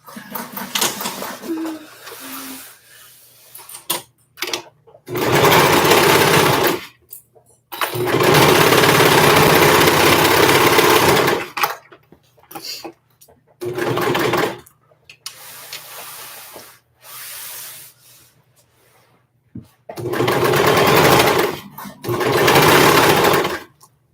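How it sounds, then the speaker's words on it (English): A sewing machine stitches a small lap tee in several bursts of steady whirring, loud and close, separated by quiet pauses with faint handling noises. "And now we can start sewing."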